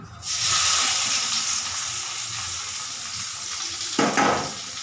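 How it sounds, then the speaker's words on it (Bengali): Chopped onion, garlic and green chilli hit hot oil with a sudden loud sizzle that settles into a steady hissing fry, briefly flaring again near the end, with no talking. "তেলটা দিকে আমার মোটামুটি গরম হয়ে গেছে তো এর মধ্যে আমি দিয়ে দিলাম পেঁয়াজ রসুন আর কাঁচা লঙ্কা কুচি"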